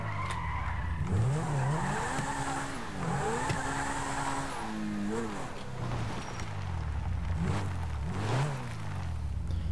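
A car in Grand Theft Auto V revs and slides, engine pitch swooping up and down through gear changes while tires squeal in repeated skids, loud and continuous for several seconds.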